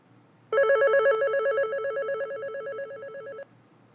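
A Panasonic KX-TGM450S cordless phone handset sounds its ringer, a steady electronic warbling ring that runs for about three seconds, loud and close, with no talk over it.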